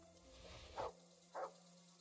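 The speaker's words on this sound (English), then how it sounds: "Oh, Mutt, you better not be barking at somebody approaching." A dog barks twice in the video game Kingdom Come Deliverance II, two short mid-distance woofs about half a second apart over a low steady hum, no talking.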